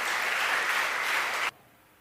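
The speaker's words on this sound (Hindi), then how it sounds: "तालियां बजाएं और उसको धन्यवाद।" A church congregation claps together during a Hindi worship service, a dense, steady burst of applause that fills the room and then cuts off abruptly after about a second and a half, leaving near silence.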